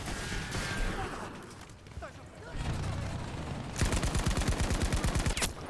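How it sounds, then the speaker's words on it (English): Gunfire on a Battlefield V battlefield against Japanese defenses: scattered shots and ambient combat noise, then a loud, close burst of rapid automatic fire toward the end, with a voice audible near the start. "Oh shit, I got sniped."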